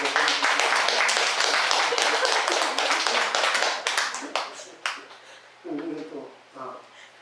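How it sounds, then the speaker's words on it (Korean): Audience applause at a Buddhist temple's Saturday dharma service, dense steady clapping for several seconds that thins into scattered claps and fades, with a voice speaking near the end. "명구라 보살 박수 한번"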